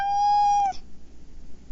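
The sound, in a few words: recording of a cat meowing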